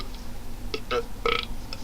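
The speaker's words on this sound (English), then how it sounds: "I'm just being very rude and burping." A person burps several times in quick succession, short guttural bursts that are close and fairly quiet over a faint room hum.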